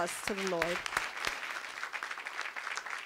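A church congregation breaks into applause during a worship service, with a voice calling out briefly at the start. Steady clapping then fills the rest of the moment at a moderate distance.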